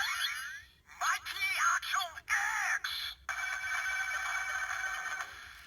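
Pressing the button on a Kamen Rider Ex-Aid Proto Mighty Action X Gashat toy gives the same chirpy electronic jingle with a synthesized voice in choppy bursts, ending in a steady electronic hum, close and clear.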